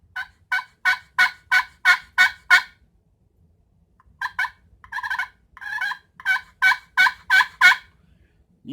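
A soft hunting turkey call makes two runs of short, evenly spaced yelping clucks, about seven in the first and a looser run in the second, separated by a pause, clear and close with no talk.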